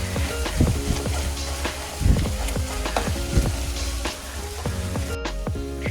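Mushrooms sauté in a hot pan with a constant close sizzle and crackle, punctuated by a few scraping stirs.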